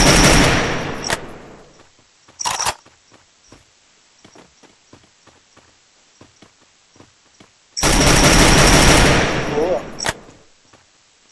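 Automatic gunfire rattles through a solo battle royale tournament match in loud bursts: a long one at the start, a short one, then another long burst, with faint footsteps ticking between them and one brief spoken word.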